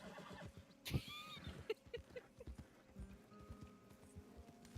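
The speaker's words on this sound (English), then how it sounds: "Your horse is agitated by a predator." A horse in the video game Red Dead Redemption 2, agitated by a predator: a sharp whinny followed by a quick clatter of hoof clops, with a faint game soundscape underneath.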